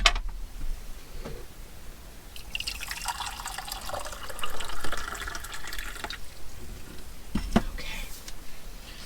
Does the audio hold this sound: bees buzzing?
no